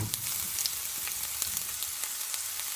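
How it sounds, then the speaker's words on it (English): Onions and garlic sizzling in hot oil, a dense, steady crackle with small pops throughout, close by and without voices. "So my oil is now hot. So now I'm gonna add my onions"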